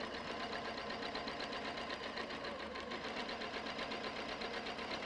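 A sewing machine stitching fabric, its motor whirring in a fast, steady mechanical rhythm that runs continuously, fairly quiet and close, with no voices.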